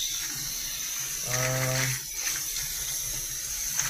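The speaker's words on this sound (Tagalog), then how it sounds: "Alimasag. Hugasan natin" Crabs being washed under running tap water, a steady splash throughout with a brief louder gush partway through, close and moderately loud.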